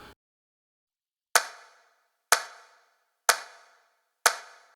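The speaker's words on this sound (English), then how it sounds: "The only other part is the clap" Recorded hand-clap sample in a music track, struck four times at an even, roughly one-second interval, each clap sharp and bright with a quick decaying tail, alone against silence.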